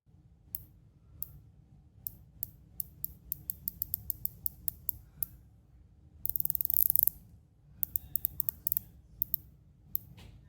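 Bezel of a Rolex Submariner Date 126610LN turned by hand, giving quick runs of crisp, close, fairly quiet clicks in irregular bursts, with one dense rapid flurry midway.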